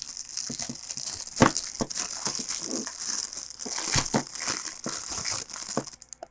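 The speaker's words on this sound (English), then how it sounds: "I have to open this plastic bag, which is sealed with some clear tape." Clear plastic bag sealed with tape being handled and pulled open on a 1992 Maxell UDI package, close and continuous crinkling and rustling with sharper crackles and tearing pops throughout.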